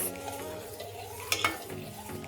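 Semolina is stirred in a pan at close range, a quiet scraping and rustling with a couple of brief metallic clinks from a spoon against the pan partway through.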